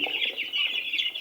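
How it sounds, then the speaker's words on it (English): Broiler and Noiler chickens cluck and chirp together in a shared pen around a drinker, a steady chorus of close, overlapping bird calls with no talk. "So it's more of the broilers that are at the drinkers spot. There's some few Noilers there."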